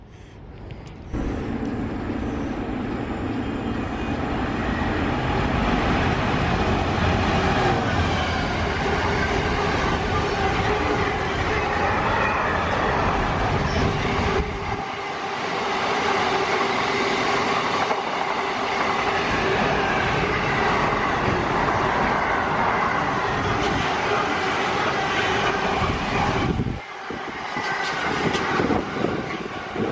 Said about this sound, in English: That's the train that I'll be getting on in about 10-15 minutes.